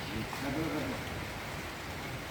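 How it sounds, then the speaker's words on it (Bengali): Steady evening rain falling in a broad, continuous hiss, with a brief faint voice-like tone early on. "এখন সন্ধেবেলা নেমে পড়েছে বৃষ্টি"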